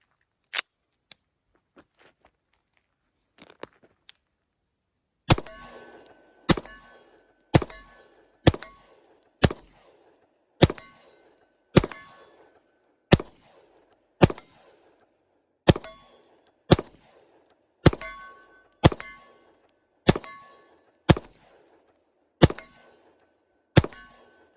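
Prodigy pistol fired at steel targets outdoors, a few faint early clicks then a long series of loud sharp shots at steady, roughly one-per-second pacing, each followed by a ringing metallic clang and a short decay.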